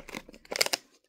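A few quick, close snips of scissors cutting open a candy packet, crisp short cuts with faint crinkling plastic in a quiet setting.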